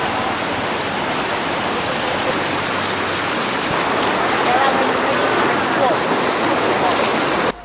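Swift floodwater rushing through a flooded village along the Pantura road in Kudus, a loud, steady broadband roar that continues unbroken for several seconds before cutting off abruptly.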